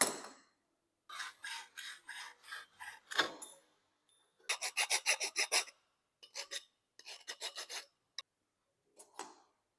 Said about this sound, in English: so now we've cut it using the hacksaw